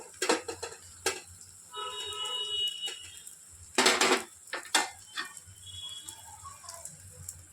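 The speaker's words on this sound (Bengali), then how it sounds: "এবার ঢেকে দিলাম খানিকক্ষণের জন্য" A metal lid clatters onto a cooking pot of curry, bright clinks and knocks of utensils ringing out with one louder clang, over a faint background of simmering.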